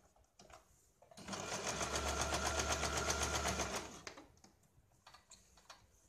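Sewing machine stitching a straight cross seam on a blouse lining, running in one steady, close burst of rapid needle chatter for about three seconds, with quiet handling before and after.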